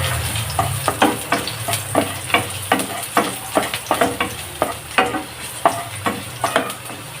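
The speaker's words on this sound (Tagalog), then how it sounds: "Lagay na natin ang bawang." Garlic sautés in a pan for pork paksiw over a steady sizzle, and a spatula scrapes the pan in a quick, regular rhythm of sharp strokes close by. No voices are heard.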